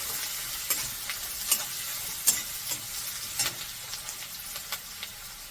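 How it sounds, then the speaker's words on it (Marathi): Upma mixture with onion and curry leaves roasts in a pan, a continuous soft sizzle broken by regular sharp scrapes and taps of a spoon stirring, close and without talk. "सर्व व्यवस्थित मिक्स करून चांगलं भाजून घ्यायचं आहे।"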